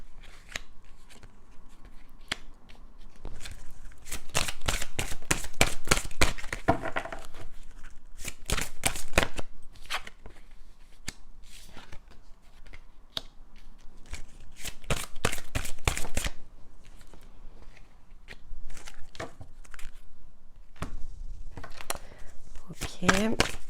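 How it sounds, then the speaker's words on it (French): Tarot cards being shuffled and drawn, heard as repeated bursts of rapid papery riffling clicks close by, with short pauses between bursts and occasional soft talking. "je vais tirer toutes les cartes comme j'ai l'habitude de le faire pour vous donner les informations"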